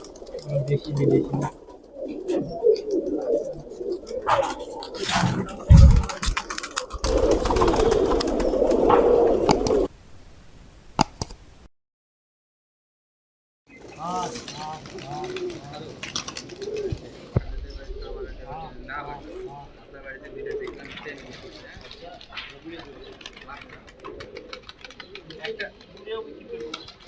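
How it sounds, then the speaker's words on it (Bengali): A rooftop crowded with many pigeons, mostly foreign breeds, gives off soft cooing and bird calls in the first ten seconds, with a little wing flapping. Human talk sits over it. After a short silence, quieter cooing goes on with background noise. "তো ছাদ ভর্তি কবুতর।"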